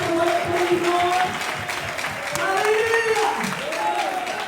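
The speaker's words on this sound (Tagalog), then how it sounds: "Kahit may problema ka mga minamahal, ikay pa rin pumapalakpak sa ating mga Panginoon." A church congregation claps in praise during a worship service, steady rapid clapping running throughout beneath a preacher's amplified voice speaking over it.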